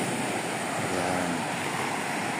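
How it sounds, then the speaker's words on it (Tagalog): Sea waves breaking on a white sand beach, a steady broad wash of surf with wind noise, continuous and fairly close, no voices. "Tingnan po ang hampas ng tubig dagat."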